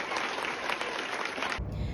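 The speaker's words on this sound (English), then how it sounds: "Can we give our hands a round of applause for that performance that we're getting here?" Audience applause at a school education event, a steady wash of many hands clapping at moderate level that carries on evenly, then shifts in character near the end as a lower rumble of room noise comes in.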